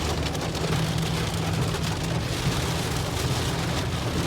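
Heavy rain falls steadily in Florida, a dense, even hiss of drops hitting surfaces with a low rumble underneath, loud and continuous throughout.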